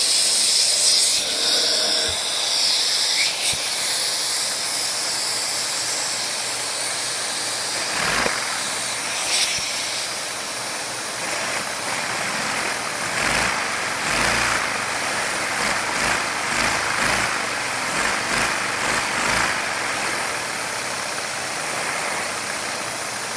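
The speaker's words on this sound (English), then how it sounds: "I think it's time for us to run this engine, this powerful beast of an engine." A LEGO inline two-cylinder vacuum engine running close up, producing a continuous airy hiss with rapid, rhythmic chuffing pulses and occasional louder clicks, with no voices over it.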